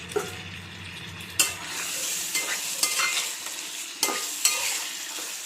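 Prawn and gongura curry pieces stirred around a hot pan, a steady sizzle of frying with sharp scraping strokes of a spoon at irregular intervals, close and fairly loud, no voices.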